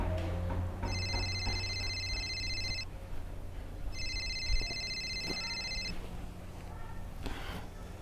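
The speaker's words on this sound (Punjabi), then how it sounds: "ਫੋਨ ਪਤਾ ਨਹੀਂ ਕਿਹਦਾ ਆ ਗਿਆ ਆ।" A telephone rings indoors in a Punjabi family drama scene: two long electronic ring bursts separated by a short pause, moderately loud over a low room hum.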